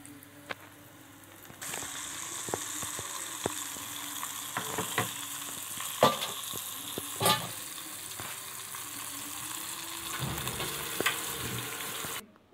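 Bolti fish frying in hot oil that was earlier used for pasta, a steady close sizzle with scattered sharp pops and crackles, going on for about ten seconds with no talking.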